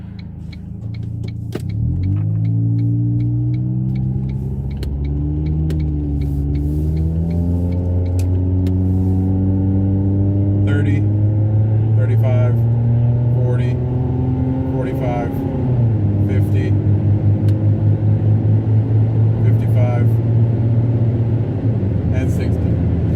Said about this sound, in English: we're gonna do an acceleration test,